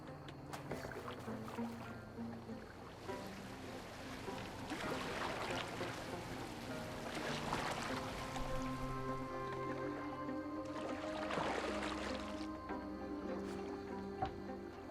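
A Viking boat moves across water in the Assassin's Creed Valhalla video game, with rhythmic swells of splashing and sloshing from the strokes, set over a soft, steady ambient bed.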